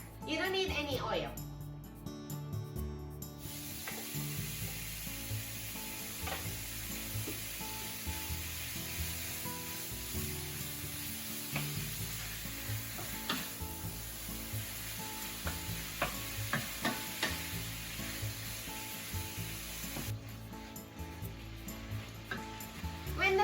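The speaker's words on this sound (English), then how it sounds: "Heat up frying pan over medium heat and let's cook the pork first." Steady sizzling of pork frying in a dry hot pan over medium heat, continuous and close, with occasional scraping and stirring and music or talk underneath.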